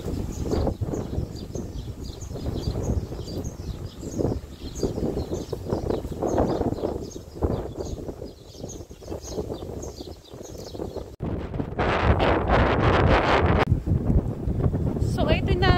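Strong gusty wind at Corniche beach in Abu Dhabi rumbles across the microphone, with people talking faintly underneath and a brief louder rushing stretch near the end.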